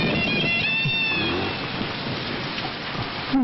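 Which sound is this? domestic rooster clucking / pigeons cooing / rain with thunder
rain with thunder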